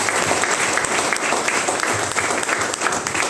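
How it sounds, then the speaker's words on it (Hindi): An audience breaks into loud, dense applause, many hands clapping together in a continuous roar that stays strong and even from start to finish. "उनके लिए एक बार जोरदार तालियां हो जाए।"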